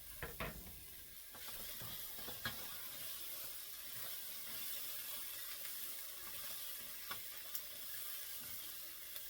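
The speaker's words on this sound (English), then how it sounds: "I'm going to go ahead and add these potatoes and get them sauteing in the garlic" Potatoes sauté in hot oil with onions and garlic, giving off a faint, steady sizzle with occasional light clicks and scrapes from stirring, close and quiet, with no one speaking.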